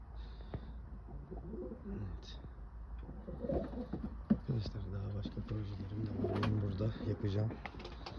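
Pigeons in a village coop give repeated soft, throaty coos, some close and some farther off, while a person talks over them in the background.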